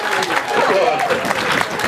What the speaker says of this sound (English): Did you give her a clap?